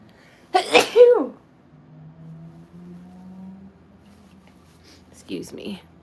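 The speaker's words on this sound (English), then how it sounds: "Uh-oh, I'm gonna sneeze." A single loud sneeze bursts out close to the mic, followed by a quieter second burst of breath a few seconds later, with a faint low hum in between.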